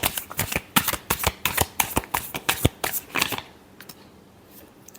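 Tarot cards shuffled during a Leo love reading: a rapid run of crisp, papery riffles and flicks that stops after about three and a half seconds, leaving a near-silent room.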